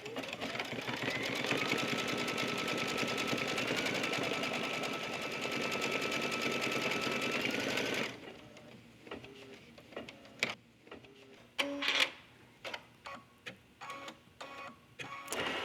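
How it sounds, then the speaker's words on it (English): An embroidery machine stitching a passport cover design runs steadily with a fast, even mechanical whir and rattle for about eight seconds, then stops, leaving quieter scattered clicks and handling knocks. "I'm just going to hold it as it stitches."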